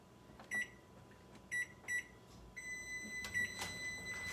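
A kitchen timer gives several short, sharp electronic beeps, single and paired, followed by a longer sustained tone, close by in a quiet kitchen while red velvet cake is being made.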